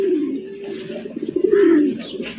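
Close, steady pigeon cooing from a pair of coloured Rajgolla pigeons, low rolling coos repeating without pause over about two and a half seconds, fairly loud with no talk.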